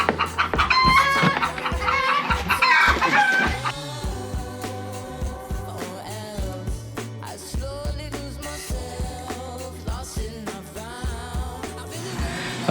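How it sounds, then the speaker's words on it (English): Chickens cluck and squawk noisily nearby in a busy, irregular run of calls, with a burst of sharp crowing at the start, outdoors beside a G20 van. "The chickens are being very noisy."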